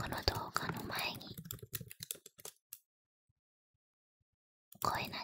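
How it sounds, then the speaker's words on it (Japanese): Close ASMR computer keyboard typing with soft whispering, dense rapid keystrokes that thin out into a few taps and then a pause of near silence, before the typing and whispering resume. "声ありのネイルタッピングじゃなくてキーボードのタイピング音ですね"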